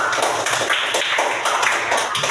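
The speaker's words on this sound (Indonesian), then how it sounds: "Sebelumnya kita kasih aplaus dulu biar semangat" Applause from a group in a classroom session, rapid overlapping claps in a dense, even patter, close and fairly loud, with no talk.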